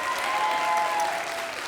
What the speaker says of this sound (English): We didn't have an opportunity to applaud Kara for that lovely speech.